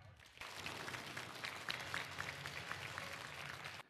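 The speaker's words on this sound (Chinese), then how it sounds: "掌声有请下一位持报人。" A studio audience on a televised antiques appraisal show bursts into applause after a brief quiet start, many hands clapping in a dense, steady roar that holds until cutting off abruptly at the end.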